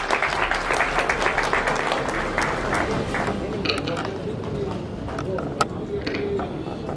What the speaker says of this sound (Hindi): जोरदार तालियां दीजिए सबके लिए